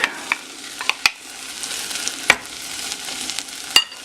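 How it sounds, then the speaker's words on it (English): Meat hits a hot pan for chile verde and sizzles with a bright, steady hiss, close and loud, punctuated by several sharp spitting pops. "Now I add the meat."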